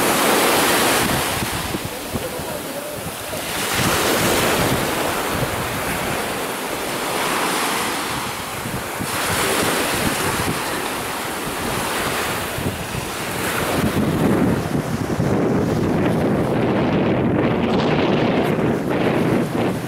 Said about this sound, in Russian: Ветер прямо бывает.